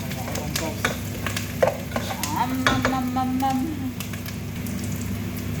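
Garlic and onion being stirred in a frying pan for pancit: a constant sizzle under repeated clattering scrapes of the utensil, with a brief murmur of a voice in the middle.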